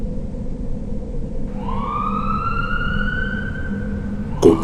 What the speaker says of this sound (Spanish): me despertó el sonido de las sirenas y el reflejo de las luces azules y rojas rebotando en las paredes de mi cuarto